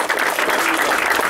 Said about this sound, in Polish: brawa, brawa.